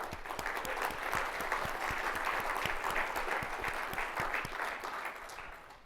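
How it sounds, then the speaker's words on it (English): Sustained crowd applause at a summit session, a thick wash of many hands clapping with a few sharper nearby claps standing out, fading slightly toward the end. "So big round of applause to those folks who are already doing the work"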